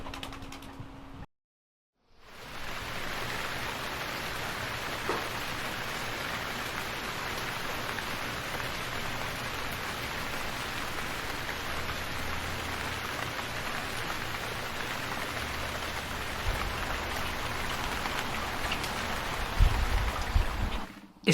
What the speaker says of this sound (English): It's been super rainy in the garden at the moment